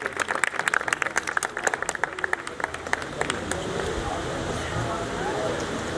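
Audience applause at a Punjabi mushaira (poetry gathering) in Pakpattan, welcoming a poet to the stage: dense clapping from a crowd in a hall, loud at first then settling into a steady wash of claps.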